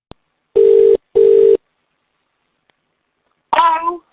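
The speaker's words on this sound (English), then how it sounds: "the phone rings at emergency services" A telephone line at emergency services rings with two steady, evenly spaced tone bursts, then a pause before a voice answers.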